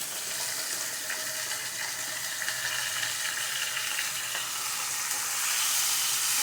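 Chickpeas crackle in hot oil left from frying potatoes while a banana stem curry is cooked, a soft steady sizzling hiss that swells slightly toward the end, with no talking.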